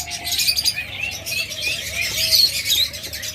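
A pair of big Japanese budgerigars chirps in quick, bright, overlapping bursts close by, with a steady twittering texture and a few louder squeaky calls, and no one speaking.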